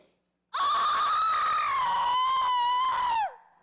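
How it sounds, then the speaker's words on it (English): Women cry out on stage in a school production of Macbeth, a single sustained, loud high wail lasting about three seconds before trailing off. "'Tis the cry of women, my lord?"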